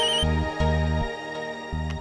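A phone rings after a speed-dial call, giving repeated low electronic ring bursts in a steady pattern, loud and close, with no one talking.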